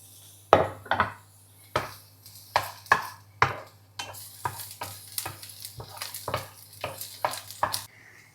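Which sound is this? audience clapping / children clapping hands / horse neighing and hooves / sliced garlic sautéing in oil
sliced garlic sautéing in oil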